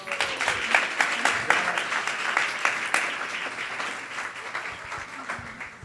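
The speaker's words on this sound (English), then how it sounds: "Let's give them a round of applause." An audience of devotees at a Vyasa-puja celebration gives a round of applause, many hands clapping in a steady, moderately loud patter that continues throughout with scattered sharper claps.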